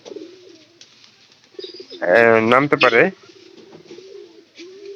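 Pigeons coo close by under a person's speech, with a louder, rapid burst of calls in the middle of the clip.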